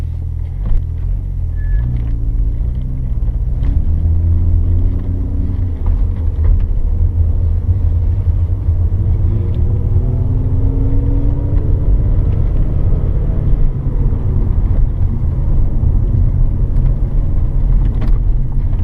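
A 2001 Audi B5 RS4 BiTurbo Avant is driven, its engine a loud, steady rumble inside the cabin, with the pitch rising and falling through gear changes as the car accelerates.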